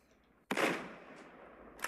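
A single sharp sniper rifle shot in the mobile game Lone Wolf cracks out loudly and decays, with a second shot starting right at the end over a quiet background.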